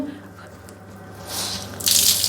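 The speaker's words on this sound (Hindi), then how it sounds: "जब तौलिया सिर के ऊपर रखें तो इसे दोनों साइड से कस के निचोड़ दें" A water-soaked towel is squeezed tightly from both sides, starting with a soft drip and then turning into a louder gush of water splashing down in two surges toward the end, close by.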